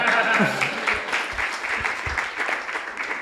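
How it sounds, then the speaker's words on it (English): Audience applause at a spiritual debate event, moderate clapping behind a voice that speaks over it, with a few sharp claps standing out. "You can give her a round of applause also."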